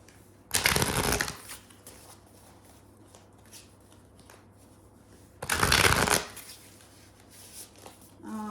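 Two separate bursts of tarot cards being riffle-shuffled, close and crisp, with quiet pauses and a faint low hum between them.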